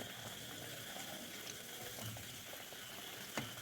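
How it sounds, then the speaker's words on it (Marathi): Fasting vadas fry in oil over medium gas, producing a faint, even bubbling sizzle throughout with a brief tap near the end. "आपण मिडियम गॅसवरती या वड्या तळून घ्यायच्या आहेत"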